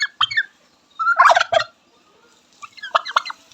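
A chicken on a farmyard where ducks and hens are kept calls out in three short, close bursts of clucking, with quiet gaps between them and no talking.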